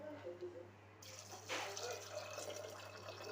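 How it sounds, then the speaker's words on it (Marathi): Water pours into a pressure cooker holding half a kilo of rajma, a short splashing gush rising midway through a quiet kitchen scene with a low steady hum underneath. "पाणी घालून घेऊया"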